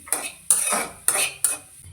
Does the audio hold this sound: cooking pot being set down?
yes